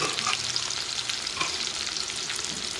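Chopped onions and green chillies fry in hot oil in a pan for an Andhra gongura chicken curry, giving a steady close sizzle and crackle with occasional stirring scrapes and no voices.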